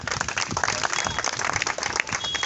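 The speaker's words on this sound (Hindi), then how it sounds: "आयोजक महोदय जी के लिए मैं चाहता हूँ कि एक बार जोरदार ताली आप लोग बजाएं" A crowd at a rally applauds loudly for the organiser, with a continuous, dense patter of many hands clapping throughout the short stretch.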